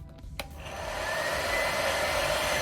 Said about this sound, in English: Let's do speed number 1.